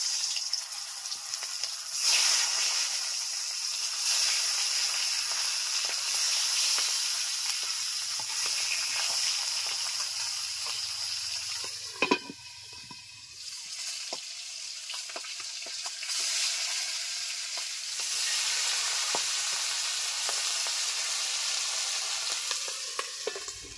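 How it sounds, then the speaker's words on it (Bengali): Remaining fish frying in hot oil, a steady bright sizzle that runs nearly unbroken at close range, with a brief clatter near the middle and no talking. "এই তেলে বাদবাকি মাছগুলো দিয়ে দিচ্ছি।"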